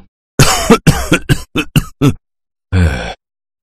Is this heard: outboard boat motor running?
no